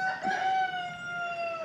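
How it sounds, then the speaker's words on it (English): A chicken calls nearby in a drawn-out, crowing-like cry that holds for over a second. "Sorry for my chickens. They like to interrupt every waking moment of my life."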